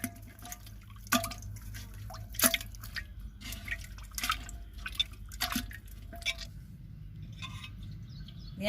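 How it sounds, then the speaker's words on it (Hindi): Butter being washed in cold water by hand, with repeated drips, splashes and sloshing, fairly close and moderately loud, no talking. "मक्खन को हमें अच्छे से धो लेना है।"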